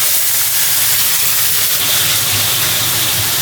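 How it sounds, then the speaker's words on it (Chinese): Crucian carp fries in plenty of hot oil in a pan, a loud, steady sizzling hiss that holds without a break. "撒点盐，把鱼煎哈"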